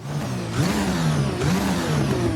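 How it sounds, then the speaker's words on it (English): A 2022 Formula Alpha F1 car mod in Assetto Corsa revs from idle, its engine note rising and falling in two quick throttle blips over a steady mechanical whine, loud and close with no talking. "I'm going to give it a quick rev"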